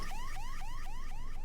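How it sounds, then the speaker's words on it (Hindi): A fire alarm rings indoors, set off by smoke, as a loud, steady electronic tone sweeping upward in repeated whoops about four times a second, continuous and alone with no talk. "बाहर निकलिए, फायर अलार्म बज रहा है,"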